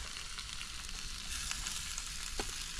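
Fried eggs sizzle steadily in a pan outdoors in a forest. The frying is close and continuous, with a few small pops. Nobody speaks.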